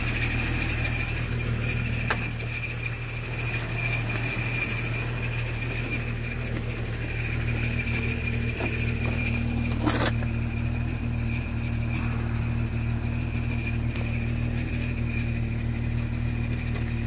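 A 1996 Jeep Cherokee XJ idles steadily with a low, continuous drone and faint metallic buzzing from a rattling catalytic converter, plus a brief louder knock around the middle; no voices.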